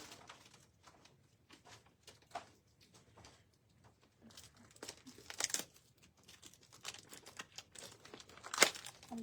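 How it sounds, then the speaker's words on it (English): Small paper envelope handled during Stampin' Up! card crafting: light crinkling and rustling with a few sharper paper crackles, quiet and close, no talk. "let me just grab a baby envelope here"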